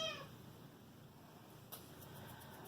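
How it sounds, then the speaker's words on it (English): A friendly house cat meows once, a short, faint, rising call at the very start against quiet room noise, followed by a brief click and soft rustling. "who's a bad little cat."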